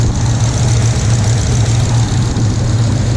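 A cammed Dodge Charger R/T on Hellcat injectors idles steadily at close range, its deep lopey rumble pulsing evenly through the whole stretch with no revving and no voices.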